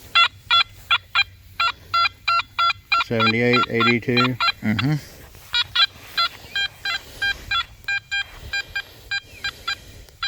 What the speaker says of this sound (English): got a good signal here, ringing up 88 down to 83, 82, but take a listen at this.